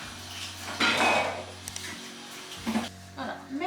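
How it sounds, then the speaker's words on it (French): Dishes, pots and pans clatter and clink as they are washed and put away in a holiday home kitchen, with scattered knocks of cookware and cutlery and a quiet voice in the background. "moi je nettoie, je range, je fais la vaisselle"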